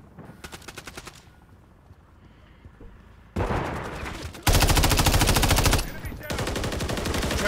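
Rapid bursts of automatic gunfire in a video game team deathmatch, starting lighter and distant, then erupting into loud, dense, continuous machine-gun fire up close, with brief pauses between volleys.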